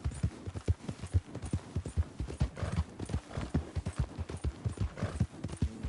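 Horse hooves clip-clop in a video game, a steady, rhythmic run of sharp close hoofbeats that carries on without a break.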